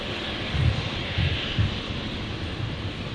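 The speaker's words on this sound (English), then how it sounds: "Fiji 921, the 737 Max 8 coming in from Nandi. Onto 19 left." A Fiji Airways Boeing 737 Max 8 arriving from Nadi roars steadily in the distance as it comes in to land at Brisbane, a broad, continuous engine rumble with slight low pulsing.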